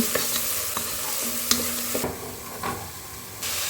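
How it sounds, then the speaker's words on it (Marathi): Chopped chili, garlic and a pinch of turmeric sizzle loudly in oil with fried onion while a spoon scrapes and stirs, close and steady with a few sharp taps against the pan, no talking. "आता त्याच्यात ही मिरची आणि लसूण टाकू थोडीशी हळद टाकली"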